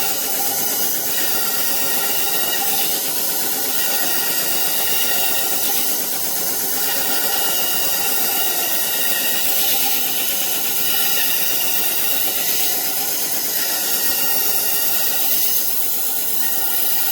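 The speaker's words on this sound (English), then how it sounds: "I don't know if you can hear me over this handsaw." A handheld saw runs close by as it cuts, giving a loud, steady hissing whir that continues without a break for the whole stretch.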